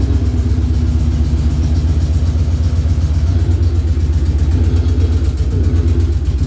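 A Coyote V8 engine swapped into a wagon runs on its first start, a loud, steady, throbbing idle with a deep pulsing low rumble close by and no talking over it.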